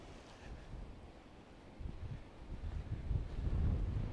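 Strong wind buffets an exposed mountain viewpoint in the Buffalo Ranges, a low roaring rumble that builds into heavier, gustier blasts toward the end, with no voices.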